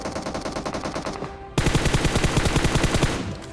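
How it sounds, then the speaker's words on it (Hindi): Rapid automatic gunfire from an M416 rifle in PUBG Mobile, a steady rattling burst that breaks off briefly and then resumes louder and denser through the rest of the stretch, with no voices over it. "फायरिंग का आवाज़ आ रहा है, गोलियाँ बंदूकी चल रही"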